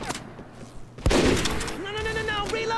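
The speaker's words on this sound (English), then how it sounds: "Gonna switch to my grenade launcher here." A single grenade launcher shot in the online video game Microvolts, a sharp loud blast with a crackling tail, followed by someone speaking over lingering game sounds.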